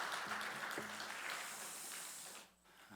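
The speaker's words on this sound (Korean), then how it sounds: "박수 올려드리겠습니다" A church congregation applauds during a Sunday morning worship service, a faint, diffuse wash of clapping that holds steady and then fades out near the end.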